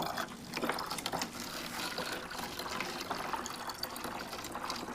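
Water poured from above into a container with holes for a fluid pressure demonstration, a continuous splashing, gushing flow lasting throughout at moderate level with no voices.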